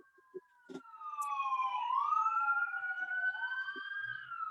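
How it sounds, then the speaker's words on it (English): A wailing siren rises and falls at moderate distance, with a few faint clicks and knocks nearby. "That siren is not too loud"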